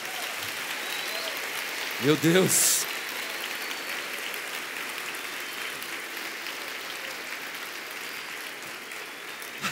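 A church congregation applauds steadily during a Portuguese-language sermon, a dense, even wash of clapping with a brief spoken exclamation early on.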